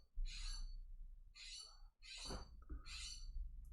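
A bird calls just outside, four harsh squawking bursts in a fairly regular rhythm over a low background rumble, one or two with a lower croaking edge, fairly close and clear.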